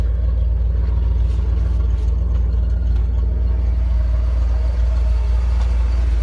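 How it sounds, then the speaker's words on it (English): A 1996 Ford F-350 truck with a newly installed engine runs steadily, giving a constant, close low rumble with no talking over it. "very good running and nice sounding engine, if you ask me."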